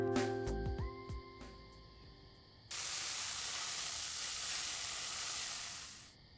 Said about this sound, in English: The sizzling of the grill echoes loudly in the otherwise silent kitchen.